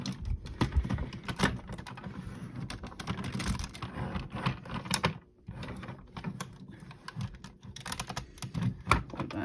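Plastic parts of a Transformers Onslaught figure being folded and snapped into alternate mode, making a dense run of small near clicks, taps and rattles, steady throughout with a brief lull midway.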